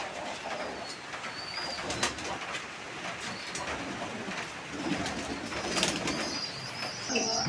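Pigeons coo steadily in a loft in Thakurnagar, West Bengal, India. The soft, layered cooing continues throughout with a few faint background chirps.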